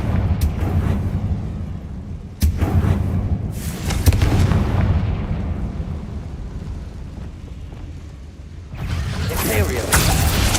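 Confringo explosive spell cast in Hogwarts Legacy on PS5, with deep booming blasts and rumbling impacts layered over continuous game noise, sharp bursts recurring near the start and end.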